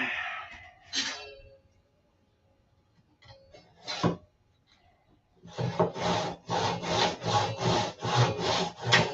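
A hand saw cutting through a 2x4 wooden board clamped without a vise: a few hesitant strokes and pauses, then a steady run of about ten rhythmic back-and-forth rasping strokes, close and clear.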